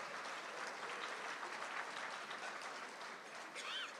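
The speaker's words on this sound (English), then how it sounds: "Now that deserves a hand clap." Audience applause fills a business luncheon hosted by the mayor, a steady, dense wash of many hands clapping at moderate distance that holds evenly throughout.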